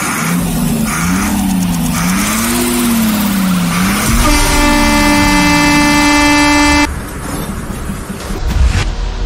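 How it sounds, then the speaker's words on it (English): An old 1995 Ashok Leyland bus diesel engine drones and rises and falls in pitch as it revs, interrupted by a long, loud multi-tone horn blast. "The engine sound of the old Ashok Leyland buses of 1995 was a special kind of feel."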